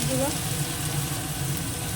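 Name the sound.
chili, tomato and ground spices frying in a pan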